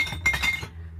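Glass fish sauce bottles clink together in a short cluster of bright, ringing knocks up close, then fade into a low background hum.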